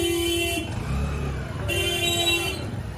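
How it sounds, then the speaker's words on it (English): Car horns honk in busy Indian street traffic: two long sustained toots separated by a pause, loud and near over a rumbling traffic background. "When you drive in India, make sure you honk."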